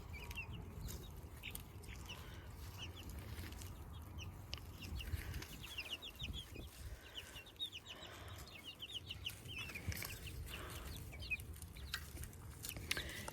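Young chickens around four to seven weeks old clucking and cheeping over a low background hum, a steady stream of small, quiet calls from a flock nearby.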